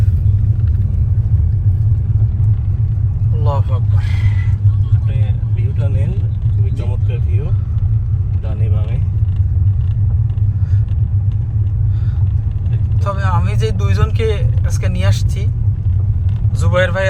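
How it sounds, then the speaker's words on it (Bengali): A car descends a steep, risky road near Sesimbra Beach in Portugal, its engine rumble loud, close and continuous throughout, while people talk inside over the drone. "বিসমিল্লা বলে ড্রাইভ শুরু করেন এটা খুব রিস্কি রাস্তা"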